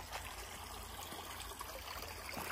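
A small brook trickles steadily beneath a footbridge on an outdoor dog obstacle course, a soft continuous babble of running water heard alone throughout.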